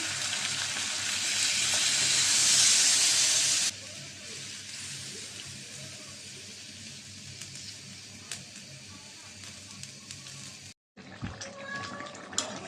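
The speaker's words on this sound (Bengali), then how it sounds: "এরকম পানি দিয়ে দিলাম" Water poured into a pan of cooking chicken and potato curry sets off a loud hissing sizzle for a few seconds. It then settles into quieter bubbling with light clatter and a brief dropout.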